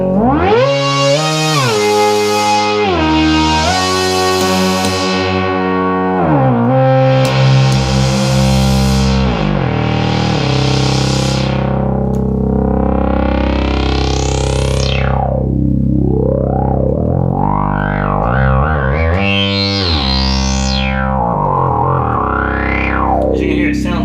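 A buzzy 1972 Minimoog sawtooth tone with a little white noise, sweeping and gliding between pitches, with smooth portamento slides and a bright, resonant, slightly distorted timbre, playing alone.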